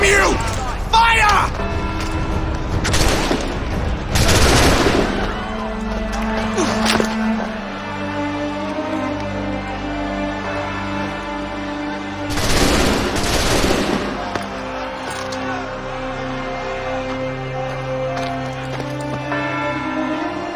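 A volley of musket gunfire rings out in Assassin's Creed III, with loud crackling bursts of shots repeating in clusters, mixed with voices and clattering horse hooves.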